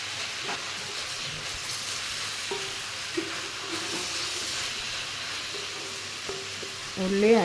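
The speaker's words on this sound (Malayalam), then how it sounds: "ഉള്ളി അടിയിൽ പിടിക്കാണ്ട് ഇടയ്ക്കിടയ്ക്കൊന്ന് വഴറ്റി കൊടുക്കണം." Onions sautéing in a pan sizzle steadily while a utensil stirs them now and then, making occasional scraping clicks, and the frying swells louder at the end.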